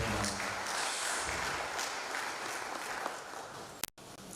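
Steady applause from a gathering honouring a retiring Commission colleague, a dense even patter that fills the room and then cuts off abruptly.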